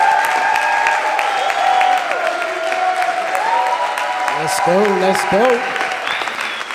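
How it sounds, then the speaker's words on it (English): A real estate conference audience claps and cheers in dense, sustained applause for the next speaker, with voices calling out over the clapping and a short spoken line near the end. "please allow yourselves to have the ability to give an applause for this next speaker"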